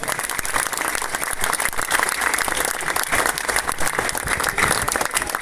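A crowd applauds a football team at a third-league season-closing event in Chorzów, a thick, continuous wash of clapping with some crowd noise, loud and sustained throughout.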